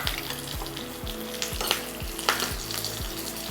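Dried red chillies and curry leaves crackle and sizzle in hot ghee for a tempering, a steady close hiss with sharp spitting pops and a few quick scrapes of a ladle against the pan.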